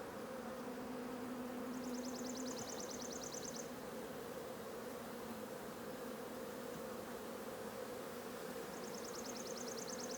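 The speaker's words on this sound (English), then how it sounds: "When you see a bee dive right straight up to your face, you have to turn your head real quick and hope she'll miss you." Honey bees buzz around a hive during a swarm inspection, a steady faint drone with bees passing close now and then, alone with no talk.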